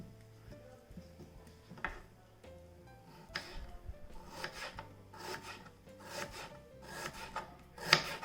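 A knife slices an onion thinly on a board, giving a run of close, soft rasping cuts in an uneven rhythm, quiet overall, with no talking.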